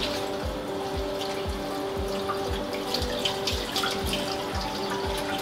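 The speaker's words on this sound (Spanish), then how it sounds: "lo voy a hacer entonces acá en el fregadero. Le voy a poner agua caliente." Hot water runs from a kitchen sink tap onto a wig, a steady splashing stream with a faint rhythmic dripping underneath, heard up close with no talk.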